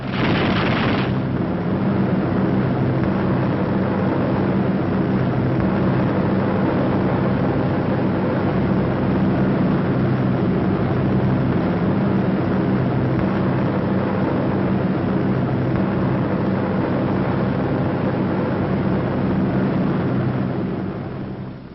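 B-17 Flying Fortress bombers in wartime formation give a heavy, continuous roar of piston engines, loud and unbroken throughout, starting with a brief harsher burst.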